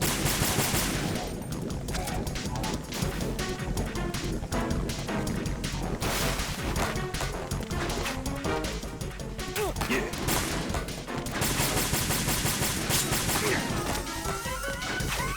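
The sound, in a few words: gunfire in the video game Metal Gear Solid 2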